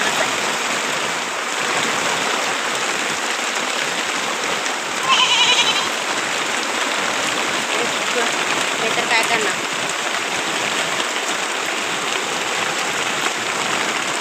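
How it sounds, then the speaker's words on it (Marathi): Heavy unseasonal rain pours steadily over a hut, a dense, constant roar of drops that fills the whole stretch without a break, with a voice speaking briefly partway through. "खूप म्हणजे खूप मोठा पाऊस पडाला आहे"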